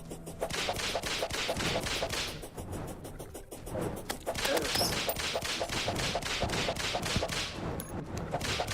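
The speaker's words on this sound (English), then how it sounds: "who's shooting at me?" Rapid gunfire comes at the player in Terraria, a fast series of sharp, metallic cracks in a steady rhythm. The shots pause briefly, then resume and continue throughout.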